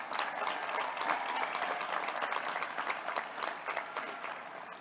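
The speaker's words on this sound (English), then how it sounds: "Give yourself a round of applause," A crowd applauding steadily at a university commencement ceremony, dense clapping filling the room at an even level throughout.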